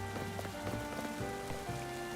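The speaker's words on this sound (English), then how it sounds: "It sounds like it's raining." Rain falling in the video game Pokemon Legends Z-A, a steady patter on surfaces that runs through the whole stretch underneath constant game music with tonal melody lines.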